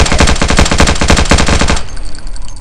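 Rapid Glock gunfire in the zombie shooter They Are Coming, a loud fast string of shots for almost two seconds, then a short fading tail.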